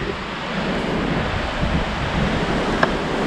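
Strong gusts buffet Guadalupe Peak, the highest point in Texas, at more than 70 mph, roaring as a steady broadband rush against the microphone for the whole stretch, with one sharp knock near the end and no talking.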